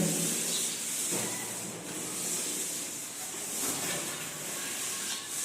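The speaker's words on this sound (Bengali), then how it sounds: "দুইজনের দুইটা লুলার দুইটা লাড়ি সেলাই মারতেছি" Two paint rollers spread sealer across the walls of a new building, making a soft continuous rubbing hiss that swells and eases with each stroke. The sound stays faint and there is no talk.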